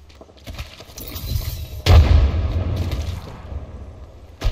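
A frag grenade explodes in the shooter game Apex Legends, one sudden loud boom that rolls into a decaying rumble, preceded by faint gunfire and followed by another sharp report.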